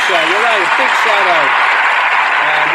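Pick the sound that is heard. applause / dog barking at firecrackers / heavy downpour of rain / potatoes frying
applause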